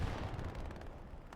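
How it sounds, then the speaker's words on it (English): Artillery fire in the video game Hell Let Loose, a dense continuous rumble of booming blasts overlapping one another, loud and heavy throughout the short stretch with no voices. "Artillery coming down hard, stopping this attack"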